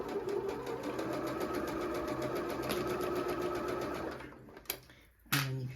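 A sewing machine stitches down the rest of a zippy pouch, a rapid even whirring chatter running steadily for about four seconds, then stopping with a couple of short clicks and a final brief burst.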